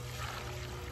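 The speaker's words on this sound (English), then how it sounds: "I'm gonna add some water" Water pours steadily onto a newly planted garden plant on a backyard patio in Portland, Oregon, a short continuous splashing trickle with no talking.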